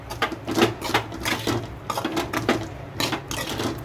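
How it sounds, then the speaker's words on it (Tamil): Pasta with Maggi masala being sautéed in oil in a pan, heard as a close, steady run of irregular scraping and clattering stirring strokes over a soft sizzle. "இது கொஞ்சம் நேரம் வதங்கட்டும்."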